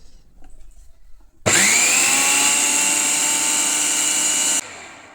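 An electric mixer grinder is switched on empty, with no water or food in it, and runs at a steady loud whine for about three seconds before cutting off, then spins down.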